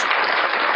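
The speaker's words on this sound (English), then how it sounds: "Let's give you some applause." Canned applause sound effect triggered from a button, a short, dense burst of clapping and cheering at even loudness, heard alone.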